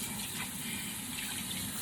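Tap water runs steadily into a bowl of rice being rinsed for steamed rice, a continuous close gushing wash with no talk.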